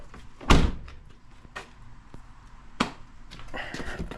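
A regular car door on a Nissan Altima is opened with a heavy thunk and a few seconds later shut with a sharper clunk. Both sounds are close, with faint rustling between them.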